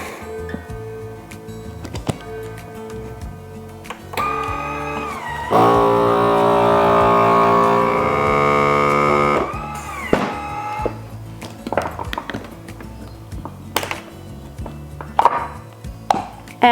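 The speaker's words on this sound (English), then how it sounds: "we're gonna be using a food saver" A FoodSaver vacuum sealer hums steadily for a few seconds while sealing a jar of chicken noodle soup mix, preceded and followed by clicks and handling knocks, close and fairly loud with no talk.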